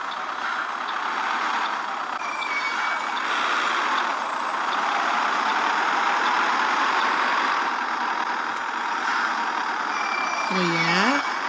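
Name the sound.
city bus running, line 541L Nova Iguaçu to Cascadura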